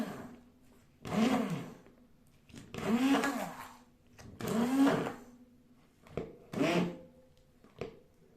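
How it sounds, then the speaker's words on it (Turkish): A blender whirs in four short bursts separated by pauses, its motor whining and churning thick strawberry ice cream, followed by a couple of brief final pulses. "Şimdi tekrar iyice blenderımızdan ikinci kez karıştıralım"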